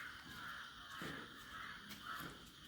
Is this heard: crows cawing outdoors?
yes